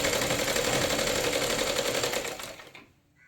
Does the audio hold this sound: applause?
no